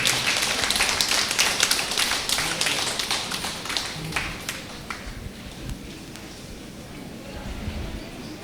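Audience clapping at a Telugu book launch in Tanuku for the book Samadhyanam, a dense burst of many hands that peaks early and then thins and fades over the following seconds, with no voices.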